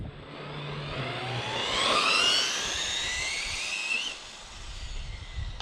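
A Traxxas motor in a Wltoys 124019 speed RC car runs at half throttle, giving a high-pitched electric whine that climbs and falls over a few seconds, with airy hiss and scraping underneath.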